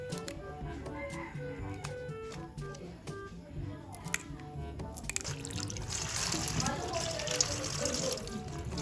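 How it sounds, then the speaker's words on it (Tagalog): Kangkong, water spinach, is rinsed under running water at a kitchen sink, with soft clinks and handling at first, then a steadier rush and splash of tap water. "hugasan na po natin itong kangkong"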